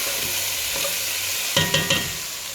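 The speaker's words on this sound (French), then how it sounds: "je vais saupoudrer un peu de farine sur ma viande et mes oignons" Veal and onions frying in a pan with flour sprinkled over them: a continuous loud sizzle, then three sharp scraping stirs with a utensil near the end.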